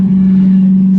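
A stock ProBoat Recoil 2 RC boat running on a 3S battery at full throttle: a loud, steady electric motor whine holding one strong pitch throughout the brief moment.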